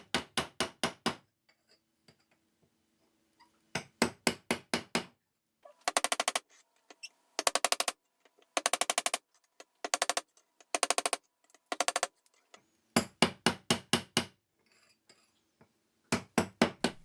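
Repeated bursts of rapid hammer blows seat a new bearing in a boat's windlass, fast metallic taps in clusters separated by short pauses, close and loud throughout.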